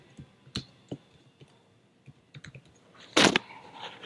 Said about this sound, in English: we're going to type in the name of our project